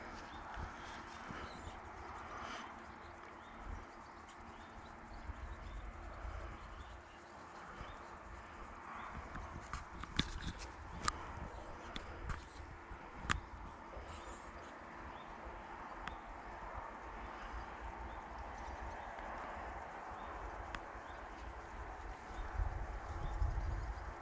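Horses being led to bathe, hooves clopping faintly and irregularly on the ground, with scattered louder knocks and thumps over quiet outdoor ambience and occasional bird calls.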